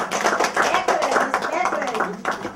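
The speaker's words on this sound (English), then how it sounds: "we want to give them a round of applause" An audience applauding at an event on rural women and girls, a brief patter of clapping heard under a person speaking loudly close by.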